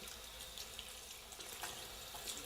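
A tap runs steadily into a sink to wash a ferret, a continuous close splashing rush with no talk.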